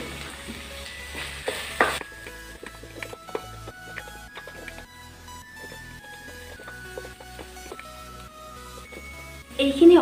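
Ground cumin, coriander and turmeric fry in hot oil for masoor dal, a soft steady sizzle close by with faint clinks and stirring, and a sharper burst near the end.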